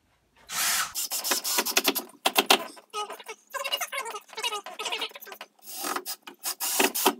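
Repeated bursts of a power drill driving screws into a board for a water cupboard, close and fairly loud, interrupted by short pauses between screws.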